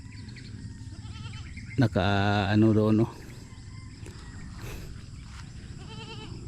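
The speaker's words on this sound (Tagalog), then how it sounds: "Daming kambing guys" A goat on a farm crowded with goats, some of them pregnant, lets out one loud, drawn-out bleat of about a second in the middle, with people talking before and after it.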